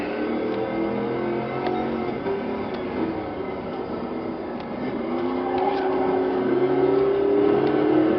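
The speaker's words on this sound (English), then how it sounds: "Bouncing off the rev limiter, which makes our rear end" A race car in Gran Turismo 7 with a big V8 sound bounces off the rev limiter, giving a sustained, buzzing, stuttering engine drone with wavering pitch that swells louder toward the end, without talk.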